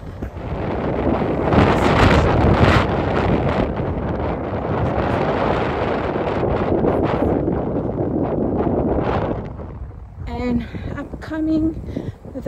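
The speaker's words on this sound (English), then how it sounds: "it's windy and it's cold" Strong cold wind buffets the microphone in loud, uneven gusts at McHardy Park in Leduc, Alberta, then eases near the end as a few short voice sounds come through.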